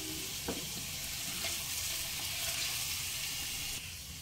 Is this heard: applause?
no